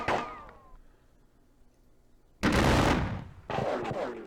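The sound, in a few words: gunfire in Civil War battle video game, Battle of Perryville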